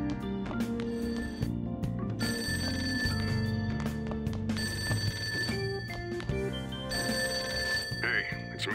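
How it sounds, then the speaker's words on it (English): A telephone rings inside the video game Persona 5 Royal, a repeating electronic bell trilling in regular bursts over soft background music. "That ringing sound isn't coming from my cell phone."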